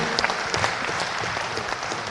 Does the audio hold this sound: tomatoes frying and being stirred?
no